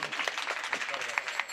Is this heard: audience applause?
yes